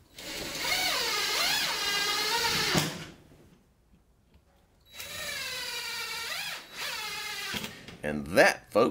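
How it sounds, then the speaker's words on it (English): A power drill drives screws through wooden pieces into wall studs in two loud, close bursts with a rising and falling whine, separated by a quiet pause and followed by a brief clatter. "After locating the studs on the walls, I'll screw in the 2 pieces that I've made."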